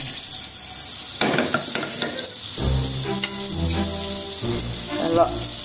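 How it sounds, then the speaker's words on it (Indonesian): Sizzling of butter in a hot frying pan runs throughout, with a few clattering stirs and some low rumbling and bubbling noises. "Kalau menteganya sudah panas, sekarang kita mau tumis dagingnya."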